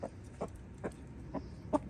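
Hens in a backyard chicken coop give about five short, soft clucks in a loose rhythm, faint and close, with no talk.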